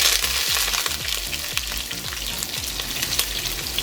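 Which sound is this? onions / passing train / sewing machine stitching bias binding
onions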